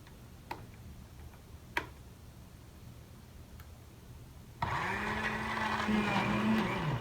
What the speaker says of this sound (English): So you want to blend it up.